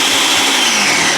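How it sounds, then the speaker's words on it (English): A regular kitchen blender grinding peanuts runs at full speed, a loud, steady whirring roar that fills the whole moment with no talk. "I'm gonna be blending the peanut twice, so I'm using my regular blender"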